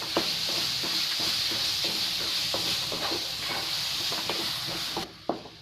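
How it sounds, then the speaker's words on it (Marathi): Finely chopped mango pieces, with cashews, raisins and almonds, for mango sheera sizzle steadily in a pan while a spoon scrapes and stirs in a regular rhythm close up, with no talk. "आणि आता आपण तसेच बारीक चॉप केलेले आंब्याचे तुकडे टाकून घेऊया आपण"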